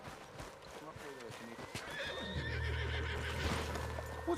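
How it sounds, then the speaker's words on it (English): A horse in the video game Red Dead Redemption 2 neighs and whinnies, and hooves clip-clop underneath. Game dialogue is spoken over it, and a low rumble swells in partway through. "What's got this horse spook, huh?"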